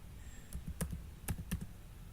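Several sharp key clicks from typing on a computer keyboard, a few quick taps spaced across a quiet room.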